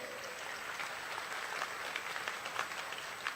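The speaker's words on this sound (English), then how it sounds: "audience, please give a round of applause to all position holders" Audience applause for position holders at a university convocation on a cricket ground, a steady, distant-sounding wash of many hands clapping with no voices over it.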